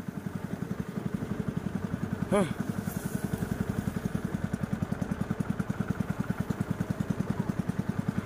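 A small motorboat engine chugs in a steady, rapid rhythm close by, with a short higher whine partway through, while the boat crosses a river.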